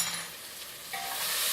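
Garlic and ginger sizzle and hiss in a hot pan for tomato soup, a close, steady frying sound with a soft scrape of stirring and no talking.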